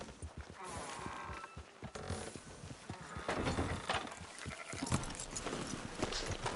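Sheep bleat a few times amid rustling and hoof-like clatter in Red Dead Redemption 2. A busy mix of animal noise sits at moderate volume with no speech.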